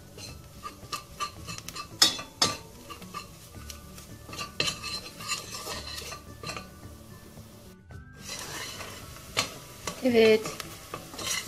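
Flour and onions stirred in oil in a pot for a milky potato soup, a spoon scraping and clinking against the metal in an irregular rhythm over a soft sizzle; one short spoken word.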